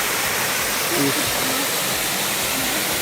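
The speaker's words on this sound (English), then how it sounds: "Here are some waterfalls of Qatar." Krushuna waterfalls in Bulgaria's Lovech region give a steady, broadband rushing roar of falling water that holds constant throughout, with a voice speaking briefly over it.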